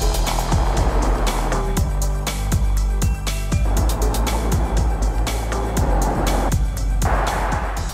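Jaguar I-PACE all-electric car pulling away with twin front and rear motors, a steady close low hum and road rumble throughout, with repeated soft thumps and clicks over it and a brief dip near the end.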